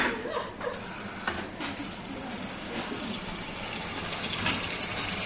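Running filtered tap water pours steadily into a pot, a continuous rushing splash with a few brief clatters near the start.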